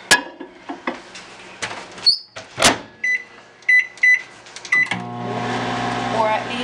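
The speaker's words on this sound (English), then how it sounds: "now what you want to do is put them in the microwave" Potatoes being cooked in a home microwave oven: clunks of handling and the door, a series of short keypad beeps, then the steady low hum of the oven starting to run.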